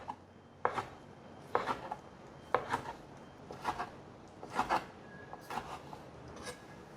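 A knife slices soaked, squeezed-dry shiitake mushrooms into strips on a cutting board: about eight crisp, close chops land at a steady, unhurried rhythm, with no talking.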